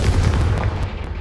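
A blasting spell explosion from a Harry Potter–style video game, heard as a low, rumbling boom with crackling bursts that fill the moment, close and steady with no gap.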